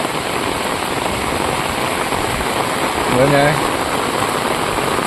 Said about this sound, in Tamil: இன்றைக்கி எங்கள் ஊரில் நல்லா மழை பெய்யுது